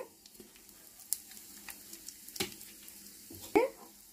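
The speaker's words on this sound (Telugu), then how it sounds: "ఇదిగోండి ఆవాలు, శనగపప్పు, జీలకర్ర వేసేస్తున్నాం" Mustard seeds, chana dal and cumin crackle and sizzle quietly in hot oil, with scattered pops and a sharper spatter near the end.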